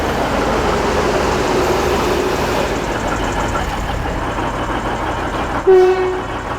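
A train pulls into a station with a steady rumbling engine and rolling noise, then a short horn blast sounds near the end, with a crowd gathered at a rally.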